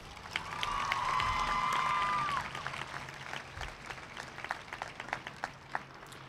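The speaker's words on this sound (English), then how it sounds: "Please give the Brahma staff a round of applause." Audience applause and cheering for the staff at a 2010 high school commencement ceremony, a dense crowd wash with whoops and a sustained whistle early, then thinning into scattered claps toward the end.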